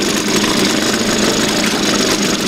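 A Suzuki DT 2.2 outboard boat motor idles on test, giving a loud, steady, close-up rattling chug that runs without pause.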